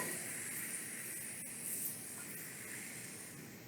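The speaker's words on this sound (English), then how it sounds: "We're going to saute this in some olive oil" Vegetables and garlic sautéing in olive oil, a steady, soft hiss of frying that runs throughout without pause.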